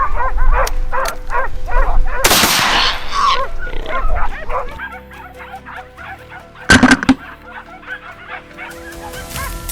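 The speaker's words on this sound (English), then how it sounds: "the baying of hunting dogs caught Kevin's attention." Hunting dogs baying and barking in repeated bursts during a wild boar hunt at night, with pig-like grunts and squeals mixed in, a loud rushing burst early and a sharp clatter later.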